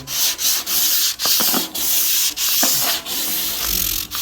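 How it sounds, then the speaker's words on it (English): Sanding block rubbed by hand over primer on a Ford Bronco body, giving loud, close, continuous rasping strokes in a steady back-and-forth rhythm with brief breaks between passes and no talking. "And I'll sand all this out"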